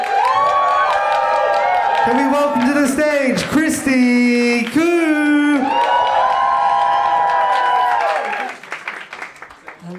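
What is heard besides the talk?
audience applause and cheering at a comedy showcase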